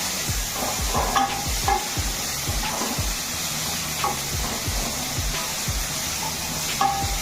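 Bitter gourd spluttering in hot oil as it is stirred in a village-style kitchen, with a steady sizzle under repeated sharp scraping knocks of the spatula against the pan, close and fairly loud, no talking.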